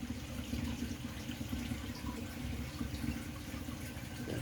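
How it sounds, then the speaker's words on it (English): Aquarium protein skimmer running in a sump with a refugium, giving a steady bubbling, trickling water flow that is fairly faint and continuous with no talking. "We've now got the pro skimmer running full time."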